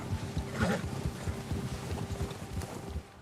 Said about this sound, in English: O urso assustou seu cavalo. Quando um predador está por perto, seu cavalo fica agitado.